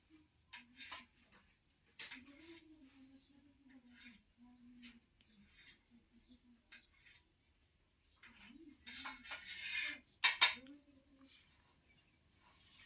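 A knife cuts paneer into small pieces on a board while making palak paneer pakoda: sparse sharp taps and clicks come between stretches of close talking, with a brief cluster of busier knocks near the end.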